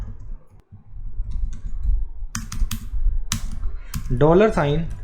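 Computer keyboard typing in short bursts of crisp, close clicks, with a brief stretch of quiet before and a voice speaking near the end.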